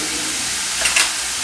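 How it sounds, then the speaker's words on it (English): Pasta shells are stirred in a pot of boiling salted water, a steady bubbling, sizzling wash with a couple of brief louder splashes near the end. "Make sure you give that a good stir real quick."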